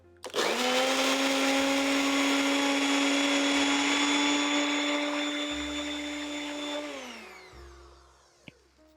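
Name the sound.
blender grinding rolled oats into flour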